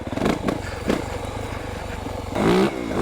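Yamaha YZ450FX dirt bike idling slowly in second gear up a steep hill, a close, steady low engine chug with light clatter and a brief louder rev near the end.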